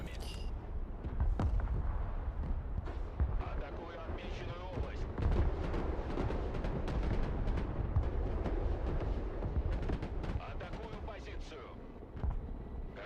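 Heavy artillery fire in the video game Broken Arrow, with a steady stream of booming impacts and blasts rumbling throughout, under players talking over the action.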